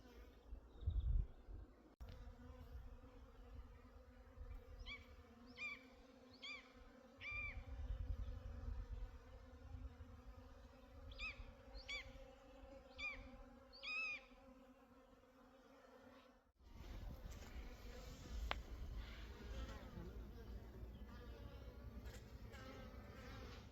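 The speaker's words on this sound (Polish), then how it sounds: "tam jakaś pszczółka lata sobie" A bee buzzes faintly nearby in a quiet outdoor apiary, its drone rising and fading in short bursts, with a steady low background hum.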